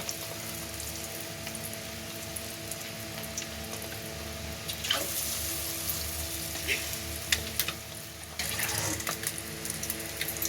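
Hard-boiled eggs coated in egg batter fry one by one in hot oil, giving a continuous close sizzle with occasional sharper crackles and utensil clatters over a low background hum.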